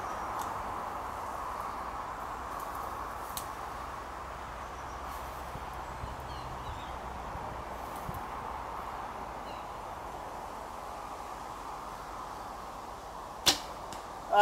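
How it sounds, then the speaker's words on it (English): Arrow striking a target at an outdoor 3D archery predator/prey shoot, a sharp isolated impact near the end over steady outdoor ambience, with a faint earlier knock. "I think the arrow's in the post box."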